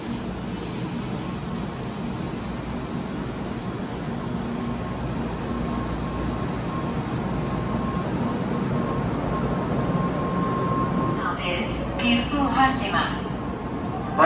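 A Shinkansen pulls into Maibara station with a steady, moderately loud rolling rumble and a rising whine. A station announcement plays over it throughout.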